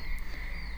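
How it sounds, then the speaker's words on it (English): Frogs croak outdoors in the background, a faint continuous chorus with a steady drone and no talking. "Probably also hear the frogs in the background."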